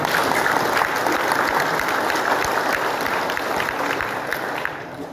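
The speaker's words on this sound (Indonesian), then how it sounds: "Beri aplaus buat Kabupaten Malinau." Steady applause from a seated audience at a special plenary session of the Malinau Regency regional council, a dense even clapping that holds for the whole stretch and fades only slightly at the end.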